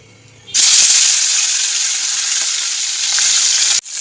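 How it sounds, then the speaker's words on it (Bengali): Kaikya (garfish) sizzles loudly in hot oil in a kadai, a steady crackling hiss that starts abruptly and continues evenly before cutting off near the end. "এই যে কড়াতে তেল গরম হয়ে গেছে, এবার আমি মাছটাকে ছেড়ে দেবো।"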